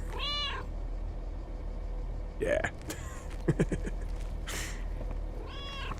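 Cats meowing in the video game Lake: a couple of clear meows at the start and end, with short voiced sounds and brief speech in between, fairly close and moderately loud.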